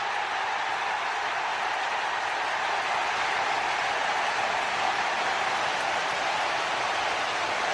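Stadium crowd at a Liverpool vs Everton derby roaring for a Gravenberch goal, a dense, steady wall of cheering and clapping with no breaks throughout.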